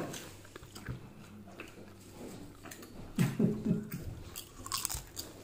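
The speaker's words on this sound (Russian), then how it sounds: "На зубах хрустит." Someone chews crunchy food close up, with irregular crisp bites that grow louder and denser midway and sound again near the end.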